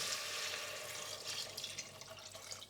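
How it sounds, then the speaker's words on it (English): Stock is poured into a pot on a stove turned up to maximum heat, making a soft, steady splashing trickle that eases off toward the end and is heard faintly with no talking. "I'll add all of my stock"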